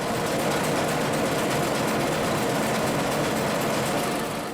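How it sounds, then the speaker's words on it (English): A carding machine running in a historic cotton mill, Quarry Bank Mill in Cheshire, England: a dense, steady mechanical whir and rattle that fills the space evenly and loudly throughout, with no talking. "Here is a carding machine in action."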